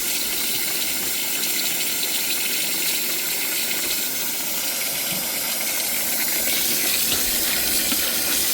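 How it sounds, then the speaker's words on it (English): Tap water running from a kitchen faucet over fresh vegetables in the sink, a loud, continuous close-up gush and hiss with no talking. "Just run this water over them."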